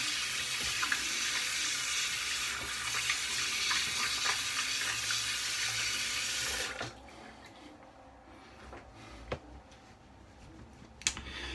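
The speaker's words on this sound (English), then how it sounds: "Rinse my hands." Hands rinsed under a running water tap, a steady close rush of water for several seconds that stops abruptly, followed by a few faint clicks and drips.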